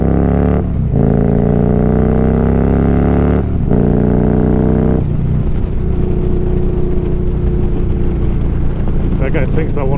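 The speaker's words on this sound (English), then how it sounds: "And my bike's pretty loud." A loud motorcycle rides along, heard from inside a Schuberth C3 Pro modular helmet: engine drone climbs through gears with two brief shift dips, then settles into steady rumble and wind roar, constant and close.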